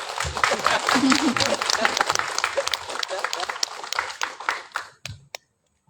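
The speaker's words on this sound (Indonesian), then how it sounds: "Jadi di situ, tepuk tangan boleh" An audience at an Indonesian Democratic Party gathering claps in a loose, uneven burst that thins out and stops near the end, with talk and cheering mixed in.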